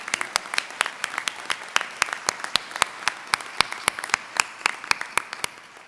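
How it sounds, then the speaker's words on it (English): Commencement ceremony audience applause, sparse distinct claps in a steady uneven patter, fairly close and moderately loud, tapering slightly at the end. "So let's give him another round of applause."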